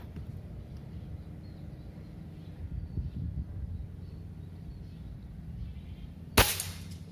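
A Phonix PCP air rifle fires one sharp shot near the end, a single abrupt crack standing out over a steady low outdoor background hum.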